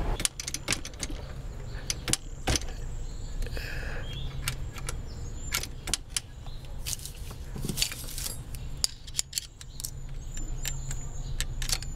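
The gear shifter shaft on a 1969 Honda CL450 motorcycle is worked by hand in a workshop, giving sharp metallic clicks and knocks in irregular bursts over a low background hum.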